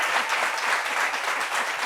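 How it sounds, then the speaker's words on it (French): A studio audience at a French discussion show applauds for Brezing: a steady, dense wash of many hands clapping at close range, sustained and even for the whole stretch with no talk over it. "Applaudissements pour Brezing"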